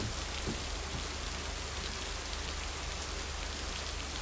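Steady rain pours in the video game Lake, a dense, even hiss of drops on surfaces that holds at the same level throughout with no voices.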